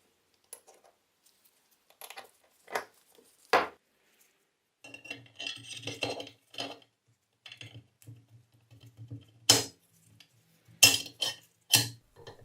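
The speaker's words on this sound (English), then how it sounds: "Then I can start putting back the bolt group" Metal parts from an old, rusty rifle's bolt group click, clink and scrape as they are fitted back together, forming sparse, close, irregular taps with quiet gaps between them.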